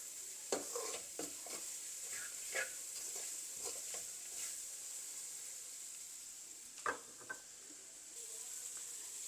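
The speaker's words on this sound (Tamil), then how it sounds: "இன்னும் கொஞ்சம் வெங்காயம் வதங்கணும்." Onions sauté in a pan for dried baby prawn sambol, a soft continuous sizzle with intermittent stirring clinks and scrapes against the pan, quiet and close, with no talk.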